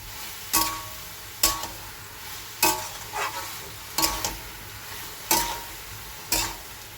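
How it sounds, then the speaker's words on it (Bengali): A spinach and coriander leaf fritter fries in oil under a low, constant sizzle, punctuated by sharp, evenly spaced scraping strokes about every second and a half. "এই যে বড়াটা আমার ভাজা হচ্ছে"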